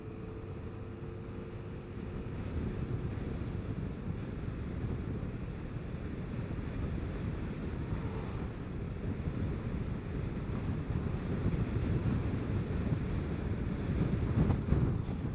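A gusty crosswind buffets the microphone on a moving Vespa GTS 300 Super Sport scooter, making a steady rushing roar over the engine and road noise on a spring ride.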